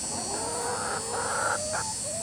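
Backyard chickens, including a loud hen, give soft clucking calls of several short rising notes over steady hiss and faint farmyard background, no talk present.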